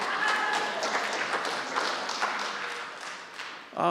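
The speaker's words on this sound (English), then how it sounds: "Big hands of applause." An audience applauds, a wash of many hands clapping that slowly tapers off, followed by a voice starting at the very end.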